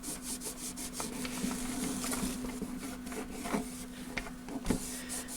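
A cloth rubbed back and forth over a discolored area on an Eico 950B, close-up soft scrubbing and rasping strokes over a faint steady hum, with no speech.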